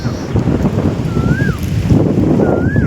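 Strong, cold wind roars and buffets the microphone continuously outdoors, with a couple of faint whistling tones rising above the rumble.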